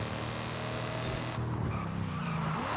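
Tires squeal and skid steadily as a car spins its wheels in Forza Horizon 5, with a loud, continuous engine roar beneath. The pitch shifts partway through.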